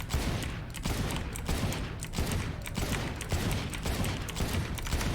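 Sheriff pistol shots in Valorant, a string of sharp, evenly spaced tap shots at close to medium range, loud and close with brief mechanical clicks between them.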